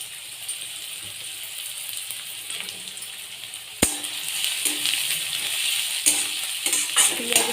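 Onions fry in a pan until golden brown, a steady close sizzle that swells suddenly louder partway through and is then punctuated by a few stirring scrapes.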